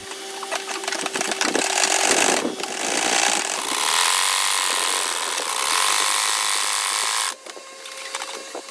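A sewing machine stitching fabric crosswise in short spaced runs, whirring in loud mechanical bursts with brief pauses and a sudden stop near the end.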